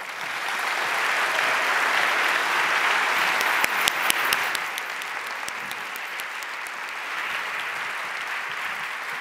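Sustained applause at an innovation forum grand prix for ten laureates, a thick, steady roar of many hands with a brief cluster of sharper claps midway, gradually easing but continuing throughout.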